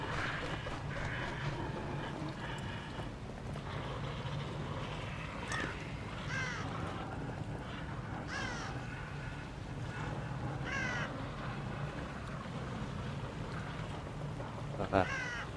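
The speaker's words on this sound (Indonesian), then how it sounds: "Oh, ada gagak kok." Crows caw repeatedly over a constant low rumbling ambience in the horror video game The Evil Within, the harsh calls spaced a few seconds apart at moderate distance.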